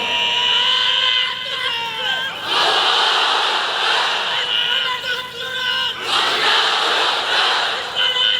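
A large crowd at a religious sermon loudly chants the takbir in unison, two swelling waves of massed voices roaring close and strong, with brief speech and murmuring between them.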